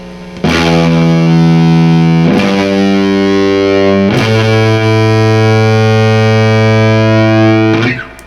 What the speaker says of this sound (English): When you kick on a little distortion, that sounds like this.